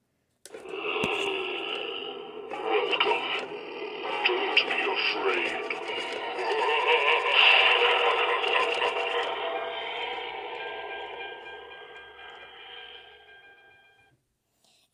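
An animated talking Reaper Halloween decoration speaks in a loud, processed electronic voice for most of the stretch, with brief mechanical clicks at the start and a gradual fade toward the end.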